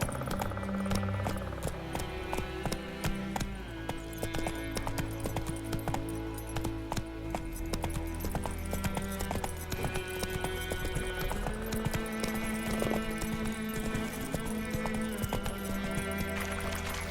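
Steady clip-clop of a horse galloping in the video game The Witcher 3: Wild Hunt, hooves pounding rhythmically and continuously under a layer of game music, with an occasional faint whinny.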